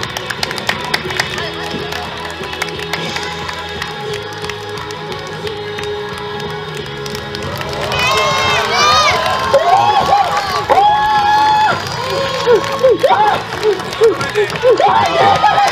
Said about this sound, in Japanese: 拍手早めにお願いします